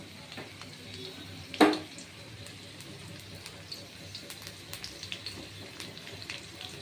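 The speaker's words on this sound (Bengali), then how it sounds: "এবার আমি পেঁয়াজটা ছেড়ে দিলাম" Chopped onion dropped into hot oil in a pan alongside potatoes, giving a sharp splash and hiss at the moment it goes in, then a soft, steady sizzle with light clinks, as someone talks over it.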